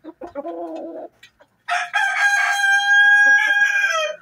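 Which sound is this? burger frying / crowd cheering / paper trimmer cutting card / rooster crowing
rooster crowing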